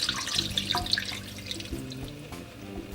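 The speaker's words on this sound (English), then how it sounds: "and then we're going to put water." Water runs and splashes into a cooking pot holding chicken, as Nigerian chicken pepper soup is started. The steady trickling and dripping comes from close by, with no talk over it.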